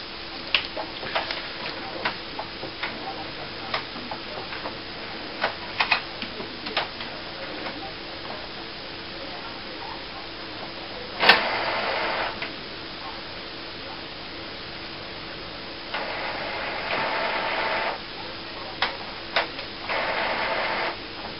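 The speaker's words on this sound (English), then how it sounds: "we're going to let it go through its setup procedure" Epson SX215-series inkjet printer powering up and running its startup routine, with soft mechanical clicks and ticks followed by several louder whirring carriage and motor runs of a second or two each.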